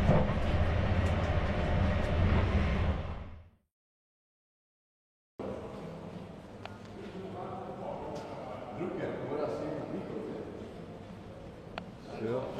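A passenger train rolls steadily along the rails with a continuous rumble and faint rhythmic clicking, cut by a few seconds of silence before the running noise resumes at a similar level.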